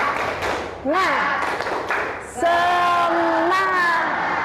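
Schoolchildren in a classroom take part in a rhythmic clapping chant, with sharp claps under chanting voices and then a sustained sung or called-out phrase over continued clapping.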